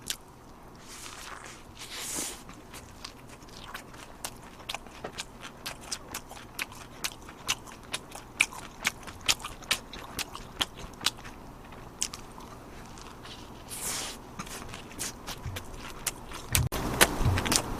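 Steady crisp crunching from bites and chewing of a fried potato burger, close and repeated throughout, with faint background noise and no talk.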